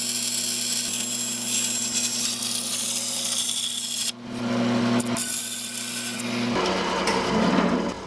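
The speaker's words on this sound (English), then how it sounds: "Everybody's favorite material to cut out on a bandsaw." A bandsaw cuts a titanium sheet with a steady, harsh grinding rasp over a humming motor drone, loud and close, shifting in pitch as the blade works through the metal, with no talk.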